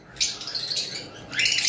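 A male lovebird of a high-mutation variety chirps in sharp, high tweets, two quick bursts close by with a faint background murmur.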